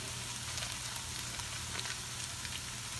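Butter, about two tablespoons, sizzling steadily as it melts in a pan while goulash is made, with a soft continuous crackle throughout and no talking.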